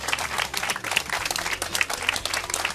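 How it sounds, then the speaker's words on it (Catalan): Moderately loud applause from a television studio audience welcoming two arriving guests, a continuous patter of many hands clapping without speech. "Un aplaudiment per ells, sisplau."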